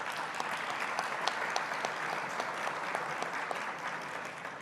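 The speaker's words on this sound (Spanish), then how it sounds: "Un aplauso para él," Sustained audience applause at a panel on global trends in liquid content for public media, many hands clapping together in a moderately distant, fairly quiet wash with a few sharper individual claps standing out.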